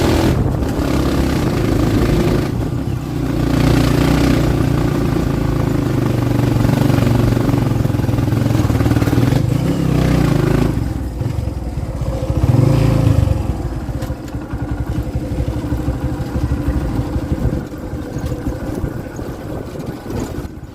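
A 2021 Kawasaki Barako 2 motorcycle fitted with a 520 sprocket set in a 12×40 combination, on a test ride: the engine drones loud and close, revving up and easing off with some clatter, and no one speaks.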